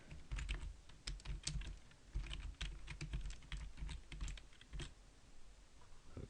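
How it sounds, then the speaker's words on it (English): Computer keyboard typing, a steady run of close, crisp key clicks with brief pauses, heard alone without any voices. "I want to actually type something in it myself"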